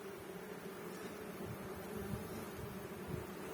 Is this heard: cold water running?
no